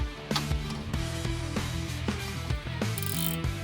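Rapid clicking of a socket ratchet working on the bolts of a Ford Ka in a garage, close and continuous, with several short bursts of pawl clicks.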